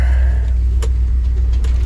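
An older RV with new shocks coasting downhill and easing its speed, a steady low engine and road rumble with a couple of brief clicks, no talking.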